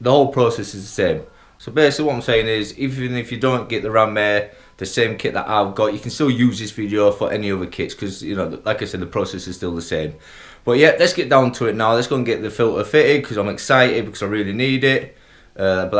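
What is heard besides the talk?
No everyday noises stand out.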